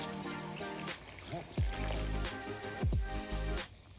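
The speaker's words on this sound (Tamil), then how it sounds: "தண்ணியை விட்டாச்சு." Water poured into a pan of onion tomato gravy, a couple of short splashy pours and trickles at moderate loudness, with faint background noise.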